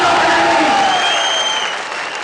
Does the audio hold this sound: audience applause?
yes